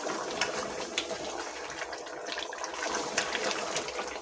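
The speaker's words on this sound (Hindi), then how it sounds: "अब इसमें पानी डालूंगी और पकने के लिए छोड़ दूंगी।" Water is poured into a cooking pot of fried beef trotters for paya, making a soft, steady gushing and filling sound up close with faint splashes, quiet overall and without talk.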